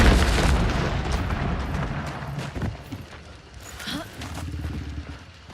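Heavy booming gunshots in Hunt: Showdown 1896, a loud blast at the start and then scattered thuds and pops that fade a little, with a voice talking over them.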